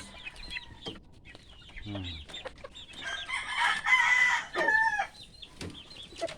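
Chickens being fed cluck and squawk nearby in short irregular bursts, with a rooster-like call rising in the middle; faint background noise throughout.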